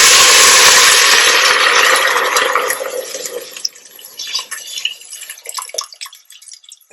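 Water poured into a pot of deeply browned onions for a fish and rice dish, a loud broad hiss and sizzle at first that fades over several seconds into quieter bubbling and scattered crackles.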